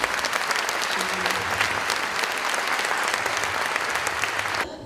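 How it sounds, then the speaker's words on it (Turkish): Audience at a panel on women in local government bursts into sustained, loud applause, a dense even wash of clapping that cuts off abruptly near the end. "gün boyunca bir kocaman alkış hepsi hak etmezler mi?"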